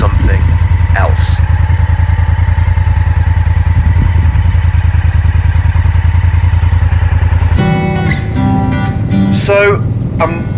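Motorcycle engine droning steadily while riding along the shore of Lake Como, loud and constant with wind rumble, shifting to a higher rev note near the end.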